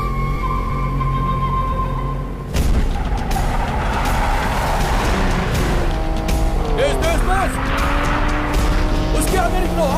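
Cars race in a fast chase, engines revving and tires squealing with a sudden loud burst after a quieter start, skidding tones rising and falling, while people shout over the noise.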